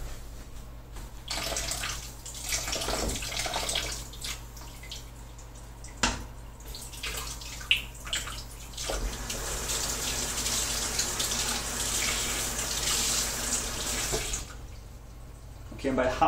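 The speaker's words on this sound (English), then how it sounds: "I'm just gonna run it under some hot water." Water running from a tap over a length of PVC pipe, a loud continuous splashing gush that shifts in tone as the pipe moves under the stream, then cuts off near the end.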